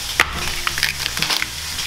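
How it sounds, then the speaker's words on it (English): Bacon and tomatoes sizzle in a frying pan, a steady close hiss with small crackles and pops throughout. "while that's sizzling away"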